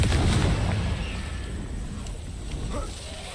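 A Confringo blasting curse goes off in Hogwarts Legacy, a loud rumbling burst at the start that fades into a lingering crackle, with a smaller pop near the end.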